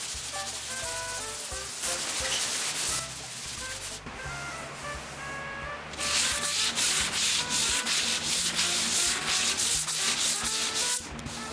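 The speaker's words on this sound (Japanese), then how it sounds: "紙やすりをかけて、ちょっとこうつるっとしますので" Sandpaper rubbed by hand across a solid wood floor, including knotty areas, in repeated rasping strokes with brief pauses, close and clear.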